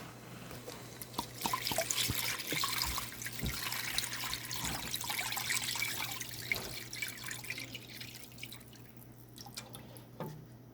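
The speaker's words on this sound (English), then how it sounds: "now I'm gonna add the almond milk" Almond milk is poured into a pot for Jamaican chocolate tea, making a continuous trickling, splashing stream that runs steadily for several seconds and then tapers off, with no talk over it.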